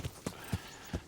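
Horse hooves clip-clopping in Kingdom Come: Deliverance, four even, clear hoof strikes at a slow walking pace, close and moderately loud with no talk over them.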